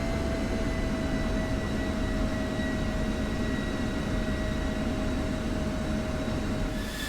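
An F-16C jet in the DCS flight simulator rolling for takeoff on the runway: a loud, steady engine roar with a high sustained whine holding unchanged throughout.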